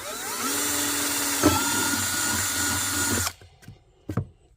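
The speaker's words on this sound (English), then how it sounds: "And you drill." A power drill whirs steadily at close range for about three seconds while drilling into a Kawasaki ZXi 1100 watercraft, then cuts off, followed by a couple of short clunks and a brief rattle.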